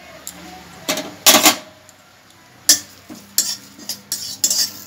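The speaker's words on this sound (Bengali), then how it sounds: "তেল দেবো না, এমনি শুকনো কড়াইয়ে আমি ভেজে নিচ্ছি" Curry leaves dry-roasting in a dry kadai with no oil, giving a run of scraping stir strokes and metallic clinks in irregular bursts, close and moderately loud, with no talking.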